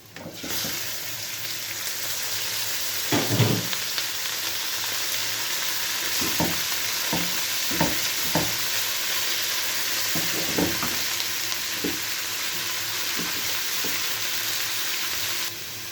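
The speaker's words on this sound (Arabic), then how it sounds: "هنفضل بقى يا حبايبي نشوح في الكبده كده" A kilo of beef liver with browned onion and garlic stir-fried in a pan, with a steady close sizzle under repeated scraping and knocking of a spoon against the metal, and no voices.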